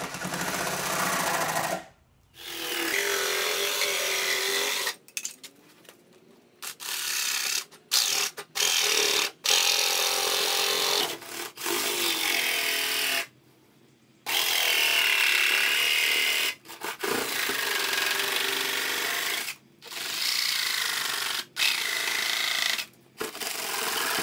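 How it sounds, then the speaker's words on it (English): A jigsaw cuts a plastic rear diffuser panel in repeated bursts, its rapid buzzing chatter starting and stopping with short pauses between cuts, fairly close and without speech. "we're going to cut that up with the jigsaw and just play connect the dots"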